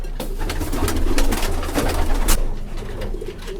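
A pair of champion pigeons, one female and one male, coo softly and repeatedly at close range, the low throaty calls rolling on steadily with no break.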